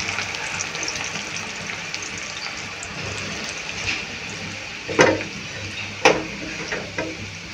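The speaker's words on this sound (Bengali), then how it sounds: "এটা আমি হালকা ব্রাউন করে ভেজে নেব।" Onions frying in hot oil for biryani give a soft, steady sizzle with a few sharp clinks from stirring, quiet and close, with no one talking.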